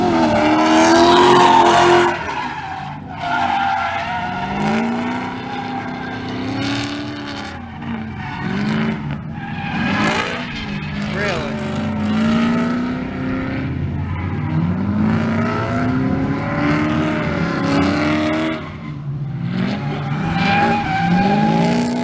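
A race car drifts at a drift event, its engine revving continuously with squealing, skidding tires rising and falling in long sweeps, loud and close throughout with no talk.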